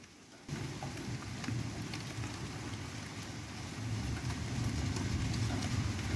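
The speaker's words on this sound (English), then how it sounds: "You can hear the rain coming now." Rain during a thunderstorm over Auckland, a steady hissing downpour that starts abruptly and builds gradually in loudness, with scattered pattering drops and no talk.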